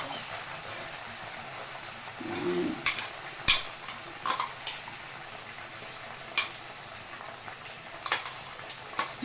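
Onions fry with ginger garlic paste in a pan for chicken biryani, giving a soft, steady sizzle broken by sharp clicks and taps of a spoon striking the pan, all close and fairly quiet.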